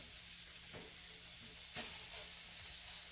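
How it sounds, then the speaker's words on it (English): Chicken pieces browning in olive oil in a pan for a chicken curry, a continuous close sizzle and hiss with a couple of soft stirring knocks, no talking. "Just browning the chicken."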